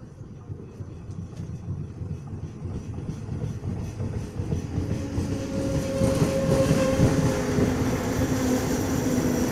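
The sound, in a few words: train arriving at station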